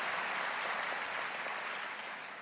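Audience applause fills a hall during the Atlanta mayor's State of the City address, a steady dense wash of clapping held loud throughout and easing slightly toward the end.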